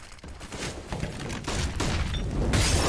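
Automatic rifle fire from an AK in a Counter-Strike: Global Offensive pro match on Dust 2, a dense, continuous burst of shots and booms that stays loud and steady throughout.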